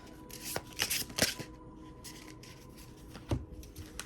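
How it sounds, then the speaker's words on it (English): Tarot cards shuffled by hand during a love reading, giving a series of crisp riffling and slapping bursts at close range, with several sharp card snaps and quieter sliding in between, and no voices. "these cards are just sliding around"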